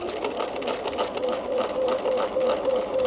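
A sewing machine runs fast and continuously during free-motion quilting as fabric is pushed away under the needle, giving a steady close whirring hum with a rapid stitch pulse throughout.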